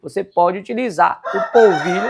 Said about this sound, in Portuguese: Olha o meu galo cantando.